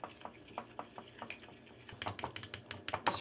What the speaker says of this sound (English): This is going to take about 2 minutes of stirring to get it to like a cake-like batter.